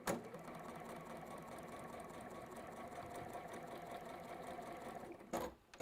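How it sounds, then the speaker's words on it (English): A sewing machine stitches across the lined-up seams of a fabric bag, giving a steady, fast mechanical whir for about five seconds before it stops abruptly. Heard up close at a low level. "line up those seams there, and then you're just going to sew across"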